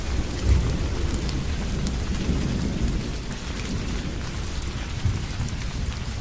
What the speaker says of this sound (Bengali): অনেক জোরে জোরে বিদ্যুৎ চমকাচ্ছে। বৃষ্টি যেন থামছেই না ঘন্টা কয়েকের মধ্যে।